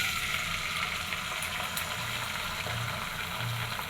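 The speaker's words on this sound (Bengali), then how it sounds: "ডিম ভেজে নিব" Eggs fry in a pan with potatoes and sweet potatoes nearby, a loud continuous sizzle with faint crackles and occasional stirring knocks, no talking.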